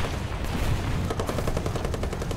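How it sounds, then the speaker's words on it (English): Rapid video game gunfire, a dense string of shots that grows into an even, fast rhythm, steady and moderately loud with no talking. "I shot a bush."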